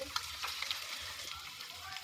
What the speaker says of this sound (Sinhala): ඊට පස්සේ රත් වෙලා තියෙන තෙල් එකට දාලා වැද ගන්නයි තියෙන්නේ.